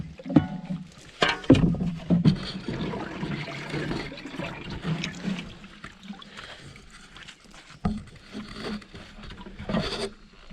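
Water poured over a wet dirt jump lip to soak it, giving irregular splashes and trickles that come in bursts with quieter gaps.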